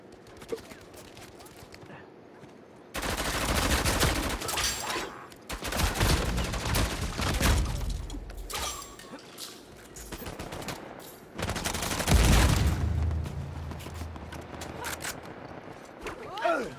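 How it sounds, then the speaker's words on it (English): Automatic gunfire bursts in Uncharted 4 multiplayer, loud rapid fusillades in several clusters separated by quieter stretches, with a voice talking over parts of the action. "Shooting behind me."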